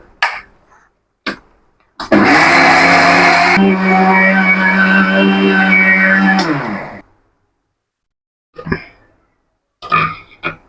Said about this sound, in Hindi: अब हम इसको पीस के एक फ़ाइन पाउडर तैयार कर लेंगे